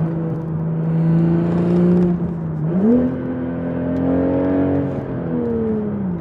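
A manual Toyota Supra on the move, its engine droning steadily from inside the cabin, then dipping and climbing again as revs rise through a gear, a smooth sustained hum throughout.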